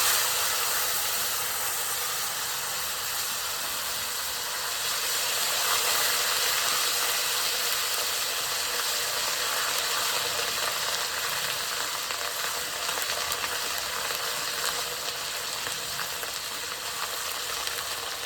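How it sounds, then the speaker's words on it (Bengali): Ginger, cumin and dried chilli frying in oil over low heat, a continuous loud hissing sizzle held steady throughout, close up with no voices. "মশলাটা আমি লো আঁচে সুন্দর করে ভেজে নেব।"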